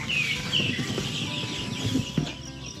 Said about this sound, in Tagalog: Nag-update lang tayo sa ating sisiw.